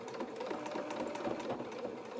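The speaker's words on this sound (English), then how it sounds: "Then we're just going to put it in the machine and sew our 1/4 inch as we've just done." A sewing machine stitches a quarter-inch seam on a small sailing anorak, giving a continuous rapid mechanical whir with fine rhythmic needle ticks, close but fairly quiet.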